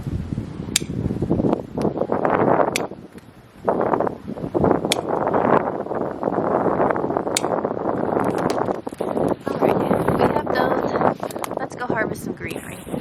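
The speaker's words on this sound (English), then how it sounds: "It's really breezy over here." Outdoor wind buffets the microphone while greenery and rose hips are foraged for a wreath, loud gusty rumbling that swells and drops in bursts, mixed with speech.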